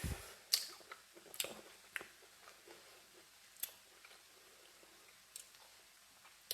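Someone chewing a mouthful of stir-fried black rice with mixed vegetables, soft, quiet, close crunches and squishy bites at irregular intervals, no talking.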